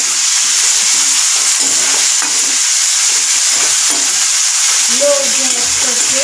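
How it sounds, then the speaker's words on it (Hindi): Tomato and green chili being stirred into onions in a pan for masala matki, a steady broadband sizzle of frying with soft scraping strokes throughout, close and fairly loud, with no talking. "टमाटो डालेंगे और हरी मिर्च, अच्छी तरह से मिक्स करेंगे।"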